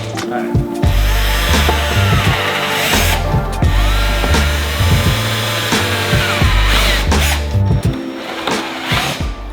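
A power drill boring a hole for a body clip on a 2023 Subaru WRX, loud and close, whining in several bursts with brief stops and restarts.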